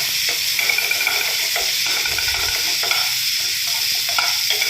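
Onion fries in a pan with a loud, continuous hissing sizzle close by, with occasional low scrapes and bumps from stirring.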